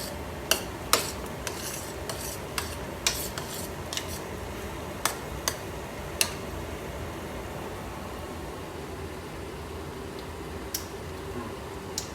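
A spoon scrapes and clinks against a pot of ratatouille made with heirloom tomatoes, giving sharp, irregular ticks over the first six seconds. A faint tick returns near the end, and a quiet kitchen hum runs underneath.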